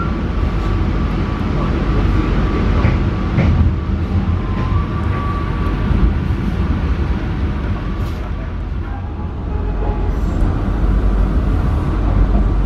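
A vintage-liveried locomotive-hauled passenger train rolls into Kampung Bandan station, Jakarta, with a loud continuous rumble and rattle of wheels and carriage, a faint whine running through it.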